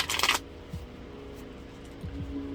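A quick burst of tarot cards being shuffled, crisp and close, followed by a few soft taps and handling noises.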